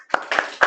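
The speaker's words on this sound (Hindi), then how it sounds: "तालियां" Three quick, close hand claps in a short burst, sharp and evenly spaced.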